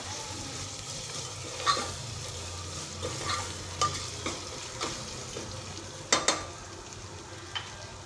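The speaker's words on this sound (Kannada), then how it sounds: "ಚೆನ್ನಾಗಿ ಫ್ರೈ ಮಾಡೋಣ ಈರುಳ್ಳಿ" Onions fry with ginger-garlic paste in a pan for tomato bath, giving a steady, close sizzle broken by occasional clicks and scrapes of a spoon stirring.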